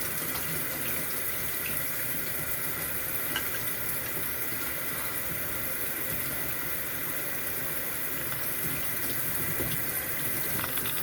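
Tap water runs steadily from a faucet into a sink to wet a sponge, a continuous close hiss and splash with no talk.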